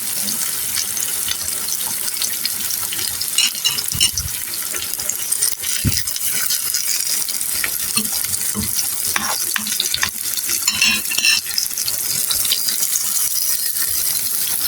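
Half-boiled pointed gourd fries in a pan with onions and ginger, with a loud, steady sizzle and crackle, plus intermittent stirring clatter and knocks against the pan, up close and with no talking.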